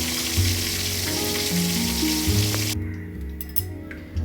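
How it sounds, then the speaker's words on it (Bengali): Fish pieces (shankar fish) sizzle loudly in hot oil in a pan, a steady bright frying hiss over low utensil rumbles, which drops away abruptly near the end, leaving faint clinks. "এইভাবে আমি প্রত্যেকটা মাছকেই ভেজে নেব।"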